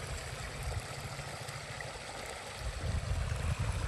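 Irrigation water flows through a channel into long furrowed beds of a village wheat field, a steady gurgling, rushing wash that stays close and continuous, swelling a little louder near the end, with no voices.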